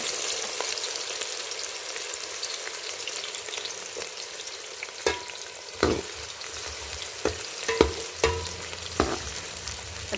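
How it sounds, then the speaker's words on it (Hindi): Onions frying in hot oil for khichdi, a steady soft sizzle with several sharp clinks and scrapes of a spoon stirring the pan from about halfway, no voices. "ऑयल मेरे ख्याल में काफ़ी गर्म हो चुका है। अब इसमें प्याज शामिल कर देती हूँ।"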